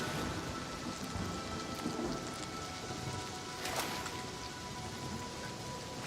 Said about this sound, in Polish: o jest tam błyskawica. Jak i grzmot.